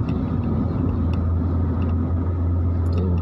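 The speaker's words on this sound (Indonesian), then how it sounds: "Tuh bis Sugeng Rayu cepat Surabaya Jogja Bandung PP" A Sugeng Rayu intercity bus on the Surabaya–Jogja–Bandung route passes on a busy road toward Madiun, its steady low engine rumble and tyre roar holding loud and close throughout without talk.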